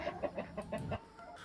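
Chickens cluck in quick, repeated bursts, about half a dozen close calls in a row, with a few ducks mixed in among the farmyard fowl.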